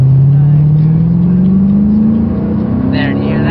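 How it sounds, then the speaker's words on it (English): An American car's engine revs loudly and steadily, its pitch climbing gradually over several seconds as it accelerates, heard close up with a faint voice near the end. "You definitely hear the engine."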